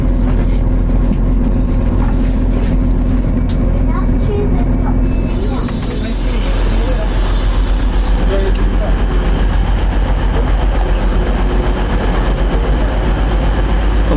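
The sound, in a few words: Class 185 train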